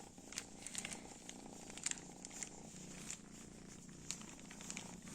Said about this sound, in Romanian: Ia torci un pic.